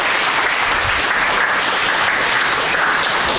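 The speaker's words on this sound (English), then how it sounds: "Everyone give a round of applause for Rebecca." Audience applause at a tech talk, a steady wash of clapping from a crowd that holds evenly loud for the full few seconds with no talking over it.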